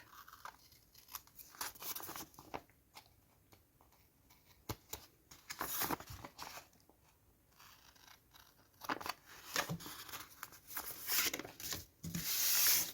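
Scissors cut away excess paper while making an envelope with a hidden tag, heard as soft, close snipping and rustling strokes that come in uneven clusters with quieter gaps.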